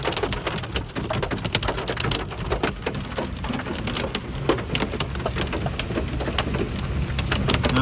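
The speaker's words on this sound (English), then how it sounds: "It is hailing." Hail falling in a sudden Colorado storm, a dense loud patter of stones striking surfaces all around, continuous and steady with no talking.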